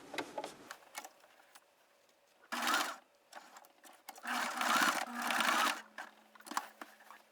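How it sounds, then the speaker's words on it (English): A sewing machine stitches a strap in place on a selvage snap bag, with a few short bursts of quick stitching close by between quiet handling pauses. "Let me go ahead and stitch that in place"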